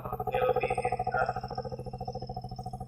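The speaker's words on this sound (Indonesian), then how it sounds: "Suara di motor Honda Beat." Honda Beat scooter fitted with a Helmi Hendera aftermarket muffler idling close by, a steady low pulsing exhaust note with a quick throttle blip early on, fairly quiet.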